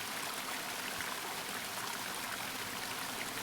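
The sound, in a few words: loud flowing water stream in video game The Longing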